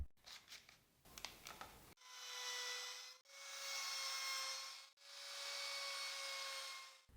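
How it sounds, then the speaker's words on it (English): A router fitted with a straight 45-degree bit bevels the edges of a wooden piece, heard as three steady, high whining passes of several seconds each, preceded by scraping and handling noises. "For this, I put the straight router bit that cuts at 45 degrees in the router."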